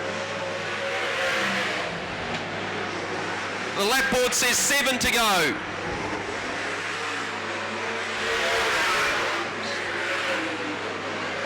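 Sprint cars race around Baypark Speedway in a continuous roaring drone, with a louder burst of a car sweeping close by midway. A commentator talks over the engines.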